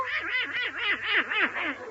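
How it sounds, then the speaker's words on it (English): A duck quacking in a rapid run of about eight nasal, bouncing quacks over two seconds, close and fairly loud, with no talking. "I want you to meet my little duck, Herman."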